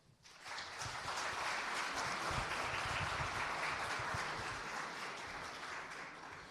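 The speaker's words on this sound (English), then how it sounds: "one big round of applause for them" Conference audience clapping for panelists at an innovation kick-off event, rising quickly from a quiet start into sustained, moderately loud applause that holds steady and eases a little near the end.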